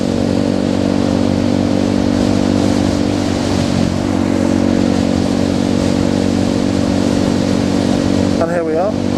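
A Honda Grom motorcycle being ridden, its steady mid-pitched engine drone running continuously and loud close to the microphone, with some wind rush and a brief shift in pitch near the end.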